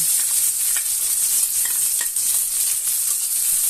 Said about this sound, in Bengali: অয়েল একটু গরম হবে, গরম হলে আমি এখানে বটবড়ি আর পেঁয়াজ কেটে রেখেছি, এটা দেব, একসাথে